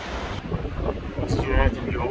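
Strong gusting wind buffets the microphone beside the Vairone stream near Lake Garda on a rainy day, a rough low rumble with bursts of rushing noise and possible faint voices.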